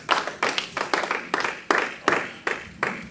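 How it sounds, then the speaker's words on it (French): A church congregation claps in unison, a steady rhythmic beat of about eight sharp hand claps, close and fairly loud, with faint voices mixed in. "Clap for the Lord Jesus Christ."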